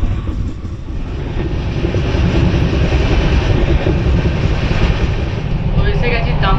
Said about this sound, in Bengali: তো ফাইনালি আমাদের ট্রেন হাওড়া খড়গপুর মেন লাইনের উপরে উঠে গেল